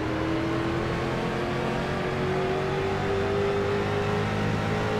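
Pack of street stock race cars in iRacing at Charlotte, engines droning loud and steady with a rising whining pitch as they accelerate together, a continuous close roar with no talk over it.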